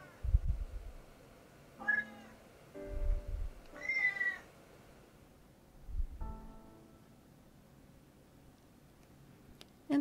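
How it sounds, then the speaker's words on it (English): A lilac point Siamese cat meows four times in a plaintive, drawn-out voice, spaced a second or two apart indoors in a quiet room. "She's lilac point Siamese. Rather rare color."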